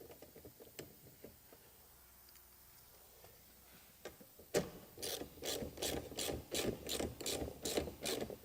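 A ratchet cranks down a fastener holding plastic trim on a C5 Corvette, giving a quick run of rhythmic clicking strokes that follow a few faint taps, all close and fairly quiet.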